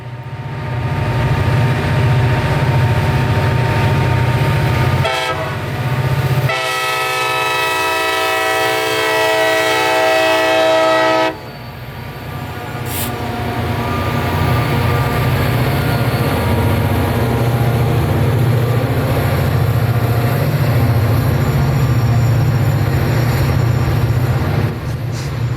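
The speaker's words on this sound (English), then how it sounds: "a nightly mixed freight train out of Winston Yard in Lakeland to Waycross, Georgia, with 2 SD40-2 EMD locomotives wide open getting this train over that hill" A CSX mixed freight train with two EMD SD40-2 locomotives running wide open climbs a grade at night in Lakeland, Florida. A heavy diesel roar runs throughout, with a loud, sustained multi-tone horn blast in the middle.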